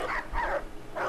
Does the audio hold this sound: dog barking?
yes